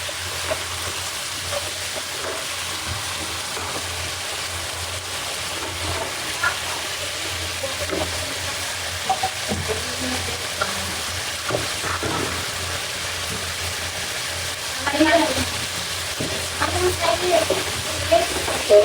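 Tilapia fish crisp-frying in hot oil gives a continuous, even sizzle and crackle with occasional louder pops, steady throughout.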